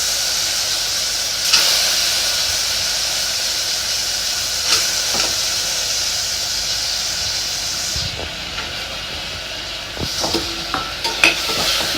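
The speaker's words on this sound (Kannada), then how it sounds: "ಇದನ್ನು ಫ್ರೈ ಮಾಡ್ಕೊಳ್ಳಿ ಚೆನ್ನಾಗಿ." Vegetables fry in a pan for a spiced rice dish, a steady sizzling hiss running throughout with occasional clinks and stirring scrapes, fairly close and with no talking.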